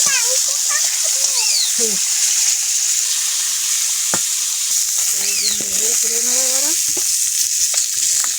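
Garlic fries in hot oil while vegetables from the garden are cooked. A loud, continuous sizzling hiss runs throughout, with brief faint voice-like tones and clinks above it.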